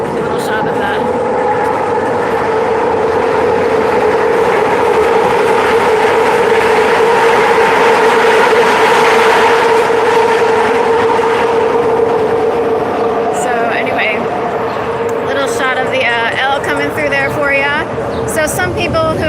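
An elevated L train rumbles past on Kensington Avenue in Philadelphia, a loud, steady rail roar with sustained tonal squeal lasting throughout, with brief higher screeches near the end.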